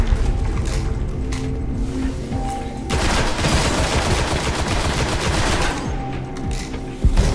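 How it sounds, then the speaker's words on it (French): Grenade blast and heavy gunfire in the video game Destiny, a sudden burst of dense, crackling explosive noise erupting after a few seconds and rumbling for several seconds before fading back to quieter game sounds. "Ah ouais, excellent la grenade"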